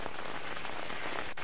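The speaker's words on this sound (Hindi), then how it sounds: "बारिश के साथ ओले भी ग्वालियर में गिरे हैं।" Unseasonal rain mixed with hail pelts down on standing crops in fields near Gwalior, a dense, continuous patter and hiss that stays loud and even throughout, with no voices.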